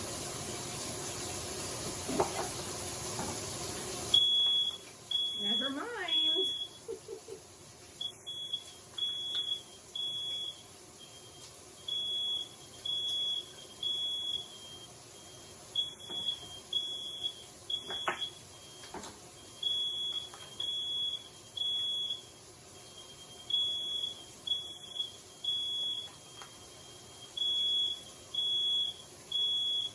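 A kitchen smoke alarm chirps in repeated short bursts while cooking, shrill and regular, sounding on and off for a long stretch; a brief spoken remark comes near the start.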